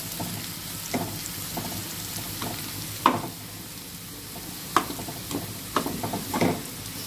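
Carrots fry and sizzle in a pan, with a steady crackling hiss and sharp scraping clicks from stirring about every second or two, close by and moderately loud, with no talking.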